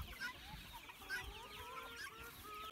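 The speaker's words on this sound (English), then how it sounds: "I found an escaped hen here." An escaped hen on a farm clucks softly and repeatedly amid a noisy outdoor background, with bird chatter and faint farmyard ambience throughout.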